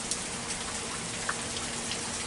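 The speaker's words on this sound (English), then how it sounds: "that rain have picked up" Heavy hurricane rain pours down as a steady, even hiss at moderate distance, with faint scattered drips and no talking.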